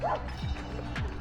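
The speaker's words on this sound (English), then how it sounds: "I have to excuse the dogs barking." Several dogs bark and yip in quick, loud bursts close by during a Volkswagen Beetle cruise to Polzeath, over a busy background.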